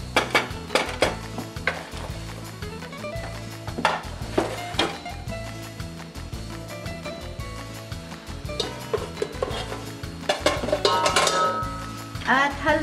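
Glutinous rice being stirred into caramel in a pot for Filipino biko, with scraping and clinking of a spoon against the pot over a steady low rumbling hum and soft sizzling, no talk.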